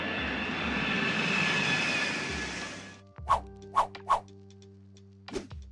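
A fixed-wing airliner engine roars loudly and steadily as a takeoff effect, then cuts off, followed by a few sharp thumps and clicks.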